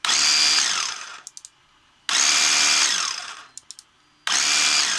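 Three bursts of a high whirring Ryobi cordless drill at speed setting 4, each running a second or so then winding down with a few clicks before starting again.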